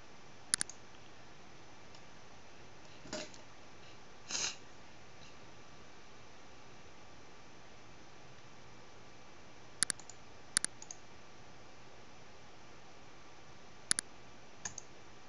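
Sparse computer mouse clicks during a game download: a handful of sharp, isolated clicks spread over a quiet hiss, with long gaps between them and no talk.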